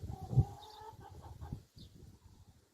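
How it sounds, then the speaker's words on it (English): A rooster clucks in a village, with short, fairly close calls and some fowl chatter in a busy outdoor mix rather than a full crow. "Look at that big friggin' rooster in the back."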